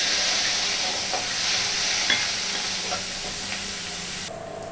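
Ginger and green chili paste frying in a hot pan for a vegetarian potato curry, a loud, close, continuous sizzle and hiss with a few light stirring clicks, cutting off near the end.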